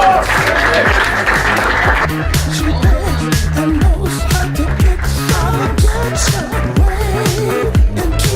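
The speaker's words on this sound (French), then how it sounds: "Il s'agit de Cédric Delphante, vous pouvez l'applaudir. Bravo !" Crowd applause at a pinball tournament in Sars-et-Rosières for the second-place player, a sustained clapping spread over music playing through the room.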